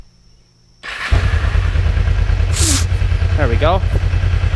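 A Kawasaki 454 LTD motorcycle engine catches after a short quiet moment and settles into a loud, steady, close-up idle with a throbbing low rumble, while someone speaks briefly over it.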